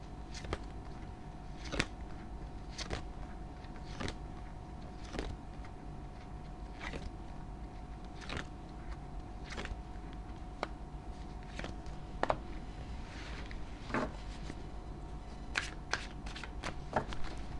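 Tarot cards shuffled by hand during a Thai love-horoscope reading for Aries, a steady run of crisp riffling snaps repeating every second or so, close and fairly quiet, with no voices.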